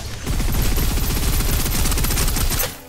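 Loud, sustained rapid-fire gunfire from the shooter video game Snowbreak: Containment Zone: a dense automatic burst of suppressive fire rattling on for over two seconds before cutting off.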